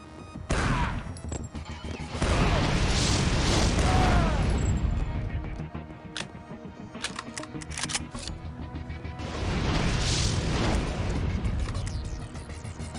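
Shotgun blasts in the first-person shooter Chaser, loud booming bursts under heavy game noise and ongoing action, with a clustered volley of sharp cracks around the middle and further sustained bursts later.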